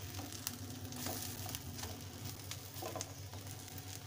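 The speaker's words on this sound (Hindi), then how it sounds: "तो चलिए अब हम फिर से चिकन रेशा मिक्स कबाब की साइड को चेंज कर लेते हैं।" Chicken resha mix kababs sizzle and fry steadily in a pan as they are flipped to the other side, with soft scraping taps over a continuous moderate crackle.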